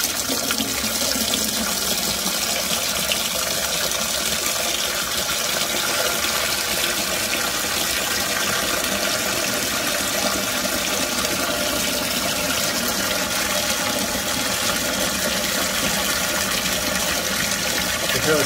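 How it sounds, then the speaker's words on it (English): Hot water gushes steadily from a tap in a continuous, even rushing stream that holds at the same level throughout. "Okay, so I'm gonna turn on the hot water."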